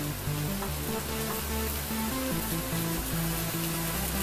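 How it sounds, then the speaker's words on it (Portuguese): Red, yellow and green bell peppers frying for a moqueca give a steady, loud sizzle, with a low hum running underneath throughout. "Vamos colocar os nossos mix de pimentão vermelho, amarelo e verde."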